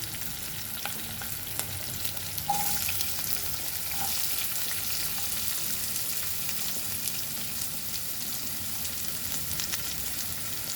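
Onions frying in a pan with asafoetida, a dense continuous sizzle with a few faint utensil taps, close and steady throughout.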